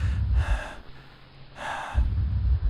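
Heavy, close breathing from a Doki Doki Literature Club character: a slow cycle of husky, gasping inhales and low, rough exhales, repeated several times with no talking.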